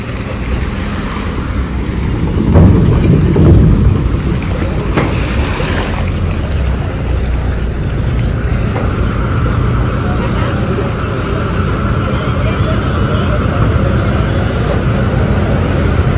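A car rolls onto a ferry boat at Ratnagiri, with a loud, continuous low engine and hull rumble, wind and water noise throughout, and a few heavier thumps early on.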